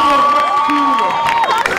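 Crowd cheering at La Parisienne, a Paris sports event, with loud overlapping shouts, whoops and scattered clapping close by, high voices rising and falling throughout.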